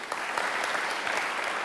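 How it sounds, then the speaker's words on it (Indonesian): A church congregation claps together in dense, steady applause during a worship service. It fills the whole brief moment without a break, and no one speaks over it. "Yang setuju tepuk tangan bagi Tuhan"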